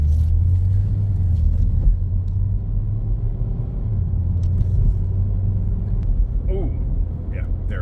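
A Ford EcoBoost with a faulty transmission pulls away with a steady low engine rumble and drivetrain drone. Someone talks over it, and a few faint clicks and tonal chirps come near the end.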